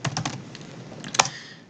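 Several quick keystrokes typed on a computer keyboard while entering a command, ending in one sharper, louder key press like Enter, close and clear with no talking.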